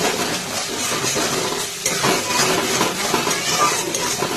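Masala spices frying in oil for Bengali tel koi, a continuous close sizzle with stirring and scraping of a utensil against the pan, loud and steady throughout without talk.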